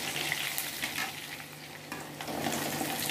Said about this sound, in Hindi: इसको दोनों तरफ पलटा के अच्छा सा लाल फ्राई करके निकालेंगे